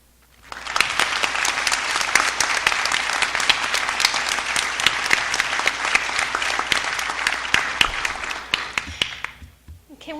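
Hearty audience applause at the GEM Awards 2019 ceremony, many hands clapping loudly and continuously for about nine seconds before fading out.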